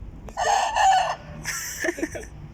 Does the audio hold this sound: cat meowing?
no